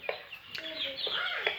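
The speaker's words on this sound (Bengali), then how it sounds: "মুরগি নিয়ে, টাইগার মুরগি।" Tiger breed chickens cluck in short, scattered calls close by, with a few sharper squawks and brief, faint human voice sounds in the background.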